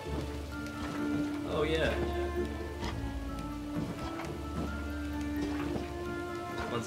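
Game rain in Trine 4, a light patter of drops ticking on surfaces behind in-game sounds, with people talking over it now and then.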